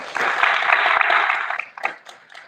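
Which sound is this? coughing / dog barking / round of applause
round of applause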